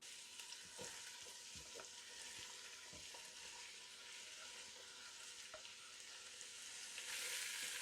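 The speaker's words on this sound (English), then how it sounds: "Just a little bit more oil. We're going to go in with our vegetables." Vegetables hiss and crackle as they hit hot oil in a pan for a venison Guinness stew, a steady faint sizzle with light stirring clicks that swells louder near the end.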